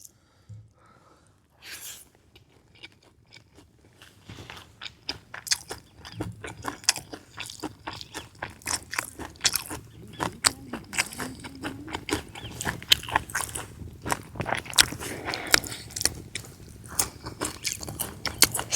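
Close, crunchy chewing of gongura curry with dried prawns, starting quiet and building into dense, wet bites and smacking mouth sounds that continue steadily and loudly for the rest of the stretch.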